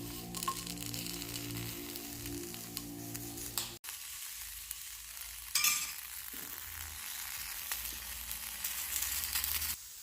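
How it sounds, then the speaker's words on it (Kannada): Six chillies fry in a pan for horse gram sambar, giving a steady close sizzle and crackle with occasional stirring scrapes and no talk. "ಮೆಣಸಿನ್ಕಾಯಿನ ಚೆನ್ನಾಗಿ ಫ್ರೈ ಮಾಡ್ಕೋಬೇಕು"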